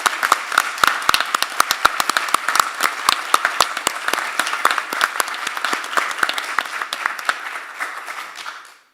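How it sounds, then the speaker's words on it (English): A school board meeting audience applauds, a dense burst of many hands clapping that holds steady for several seconds before fading out at the end. "let's all give them a big round of applause"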